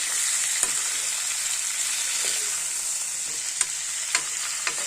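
Pork with tomatoes and lai sak greens sizzles steadily in a pan, close and bright. Occasional light clicks and stirring knocks sound over the constant frying, with no voices.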